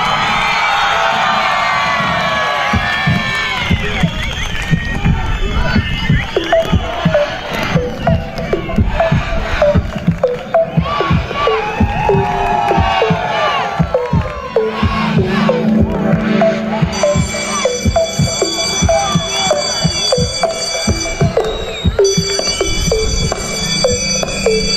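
Crowd at an outdoor walnut and culture festival in Çağlayancerit cheering and applauding for a Turkish pop singer, loud sustained shouts and whoops with bursts of claps, music and electronic tones joining toward the end.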